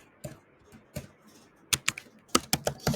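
Keystrokes on a computer keyboard as code is typed, sparse single taps at first, then a quicker burst of several sharp clicks, close and clear with no talk.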